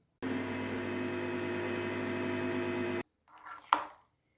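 An electric blender whirs loud and steady for about three seconds as it mixes the ingredients for homemade mayonnaise. It cuts off abruptly, and a short clatter follows.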